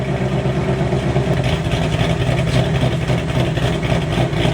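A 2023 Mustang GT with a ghost cam and Kooks catless headers idles close by, its deep, loping burble rising and falling unevenly, loud and steady with no talking.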